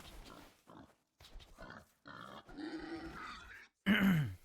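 Deep, repeated grunts from a boar in the video game Age of Empires II, in short bursts, ending in a louder, closer snort, with no talking.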